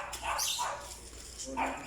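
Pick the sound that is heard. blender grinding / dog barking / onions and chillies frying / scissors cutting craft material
dog barking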